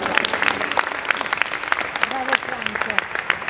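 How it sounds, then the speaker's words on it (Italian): A hall audience at a civil protection event applauds a man, scattered sharp claps over a crowd bed while people talk through it. "Un applauso a Franco."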